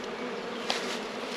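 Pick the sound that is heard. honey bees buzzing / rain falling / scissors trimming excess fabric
honey bees buzzing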